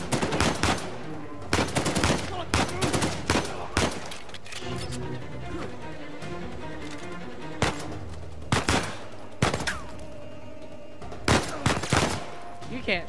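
Gunfire in the Uncharted 4 video game: repeated loud bursts of automatic fire and single shots crackle through a noisy firefight, arriving in clusters across the scene with brief lulls between volleys.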